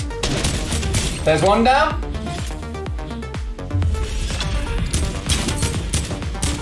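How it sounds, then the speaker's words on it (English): Legendary AK assault rifle firing in Fortnite, a video game, as sharp rapid shots amid busy game effects and music, with someone talking briefly over the action. "first hit with the AK"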